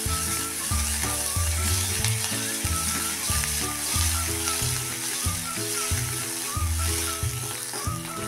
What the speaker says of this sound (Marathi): मिरची, लसूण आणि मिरे एकत्र आपण हे चेचून घेतले जाडसर, ते टाकून 1 मिनिटभर परतूया